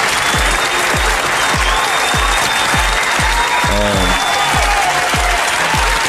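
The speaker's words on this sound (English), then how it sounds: "Can we get a round of applause for Sheena and Jumaine and Josh and Jeremy?" An audience at an evening players' ball breaks into steady, loud applause that fills the whole stretch, with regular low thumps running underneath the clapping.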